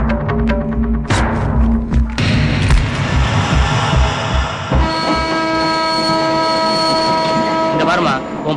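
A passenger train runs loudly nearby, with a horn blast, rumbling wheels and clattering carriages plus screeching rail squeal, while voices speak over the din.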